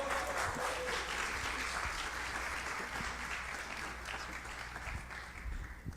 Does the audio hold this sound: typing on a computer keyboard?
no